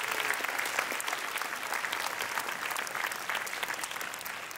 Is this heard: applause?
yes